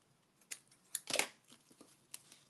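Scissors trim ribbon for an altered paper clip craft, giving a few quiet close snips and crinkles, with one louder cut in the middle.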